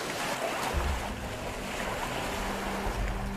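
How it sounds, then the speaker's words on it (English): Wind and waves at sea in the South Pacific off Polynesia, a continuous roar of surf and gusting wind buffeting the microphone, with no voices. "Wind creates waves and difficult currents."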